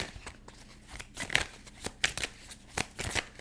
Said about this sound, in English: I gotta wait for the right shuffle.